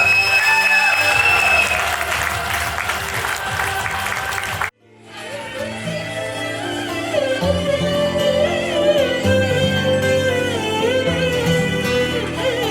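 Big applause from an audience as a guest is invited on stage at an awards function in a resort; loud sustained clapping breaks off sharply, then resumes with music and crowd noise swelling.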